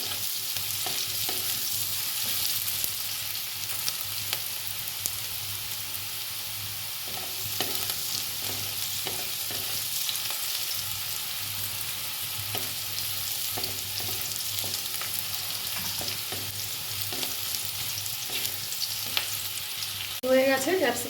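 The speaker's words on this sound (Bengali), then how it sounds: "ক্যাপসিকামটা আমি খুব বেশি ভাজবো না, শুধু কাঁচা গন্ধটা চলে যাবে ততক্ষণ হালকা করে ভেজে নেব" Capsicum fries lightly in a pan for vegetable noodles with a continuous soft sizzle, joined by occasional scraping stir strokes and utensil clicks. It stays close and even throughout, without talk.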